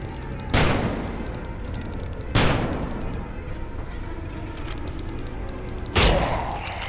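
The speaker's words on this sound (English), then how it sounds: "In the back, 2 magnum shots." Loud magnum shots ring out in the zombie game Nightmare of Decay, three sharp separate blasts spaced a couple of seconds apart, each with a short fading tail over quiet background.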